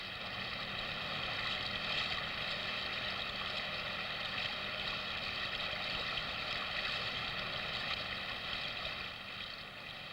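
A large commercial hovercraft barge hovers with a constant, heavy whirring drone of fans and engines, steady and unbroken, with no voices.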